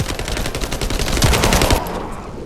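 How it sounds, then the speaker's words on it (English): Rapid automatic gunfire crackles in The First Descendant video game, a dense, loud burst of repeated shots that cuts off abruptly near the end. "I'm gonna shoot at him!"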